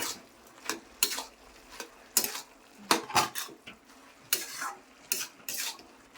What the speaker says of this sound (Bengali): আমি একটু নেড়ে দিচ্ছি এগুলি